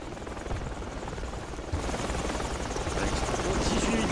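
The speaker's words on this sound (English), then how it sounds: "enemy, I guess, is on the chopper" A helicopter in an online multiplayer video game makes a steady, dense rotor whir that grows slightly louder, while players chat over it.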